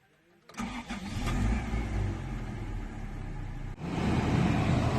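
A Toyota AE92 Levin GT-Z cranks briefly and catches, its engine settling into a steady, loud idle up close before a short dip and a firmer rev.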